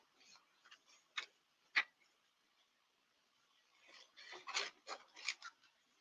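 Paper being cut with scissors at a craft table: a few sharp, separate snips early on, then a quicker cluster of crisp cuts and rustling toward the end, close and fairly quiet with no talking.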